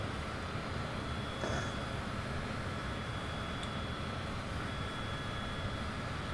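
A Cessna jet in a flight simulator game gives a steady, even engine drone with a constant whine, unchanging in level the whole way through, with no talking.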